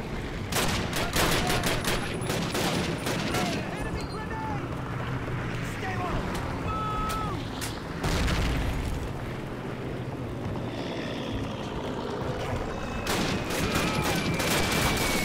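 M1 Garand fire in the Call of Duty video game: dense bursts of rapid gunshots and explosions sound throughout, dropping into a quieter stretch midway before heavy firing resumes, with loud battlefield noise filling the whole clip.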